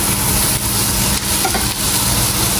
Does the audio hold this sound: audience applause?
no